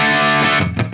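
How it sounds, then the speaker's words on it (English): A Henry's ST-1 electric guitar on its humbucker pickup rings out in a loud overdriven chord that sustains and then breaks into a few quick picked notes, slightly broken-up tone, with no talking. "When you turn it to the humbucker, you get that punch and that slight overdriven,"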